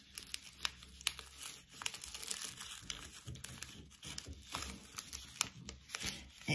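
A sheet of paper being folded in half by hand, giving close crinkling and rustling with sharp crisp snaps scattered through a steady papery rub.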